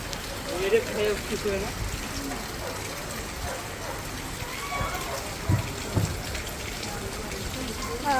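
Evening rain falls steadily in a continuous soft patter and hiss, with people talking over it at times.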